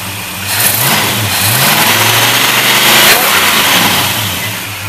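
A 1955 Chevy 210 with a 468 big block Chevrolet V8 revs up from idle in a couple of loud, rising and falling throttle blips, heard up close with a rough, rumbling exhaust.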